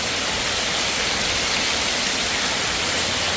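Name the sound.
heavy wind and rain falling outside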